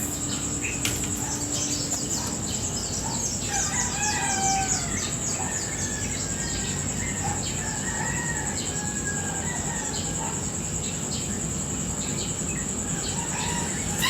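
Outdoor dawn ambience around 5 AM with many small birds chirping and twittering, a rooster crowing now and then, and a steady high insect or cricket drone underneath, all moderately distant and calm.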